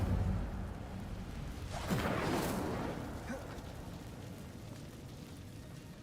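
A fire spell, Incendio, cast in a wizarding video game: a whooshing fiery burst about two seconds in, swelling briefly and fading into a low rumbling game ambience.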